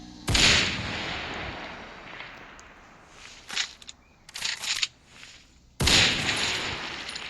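Sniper rifle shots in a video game: two loud, sharp booming blasts with long rolling tails, separated by several seconds of quieter clicks, shuffles and thuds.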